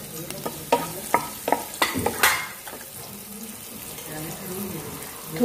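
Onions and mustard seeds fry in a pan for a Banarasi tomato chaat, a continuous sizzle with sharp clinks and scrapes of a stirring spoon near the start, then a steadier crackling hiss.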